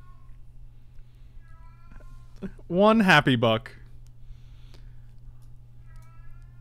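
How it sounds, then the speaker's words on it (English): A loud cat meows in a room: one drawn-out, wavering meow standing out clearly over a quiet, steady background hum, with people talking around it. "Oh my god, that cat is so loud."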